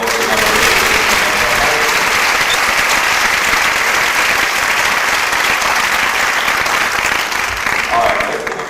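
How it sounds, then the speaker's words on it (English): Sustained, loud audience applause at a small-town festival pageant, steady dense clapping from a crowd with a voice briefly audible underneath. "let's give them all another huge round of applause"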